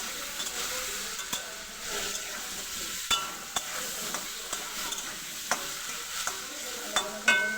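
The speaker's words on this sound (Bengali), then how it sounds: "আলুগুলো ভেজে নিচ্ছি এবার।" Potatoes frying in a pan with a continuous sizzle, broken by occasional clinks as a spoon stirs them against the pan, close and steady.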